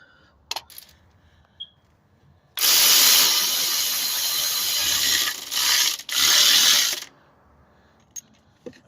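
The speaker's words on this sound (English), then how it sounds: "Now we're gonna do the bottom bolt on the alternator." A ratchet tightening the bottom alternator bolt on a 2016 Kia Sorento, heard as two long, loud, rapid clicking runs separated by a short pause, after a few isolated tool clinks, with no talking.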